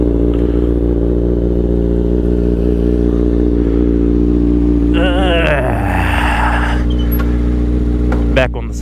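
A motorcycle engine idles with a steady low drone, then revs up with rising pitch and a few clattering bursts close by, with a brief falling whine near the end.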